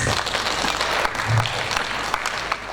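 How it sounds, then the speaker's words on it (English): An audience claps at a university conference ceremony in a ballroom, a brief, dense burst of applause with a faint murmur of voices underneath. "A round of applause, please"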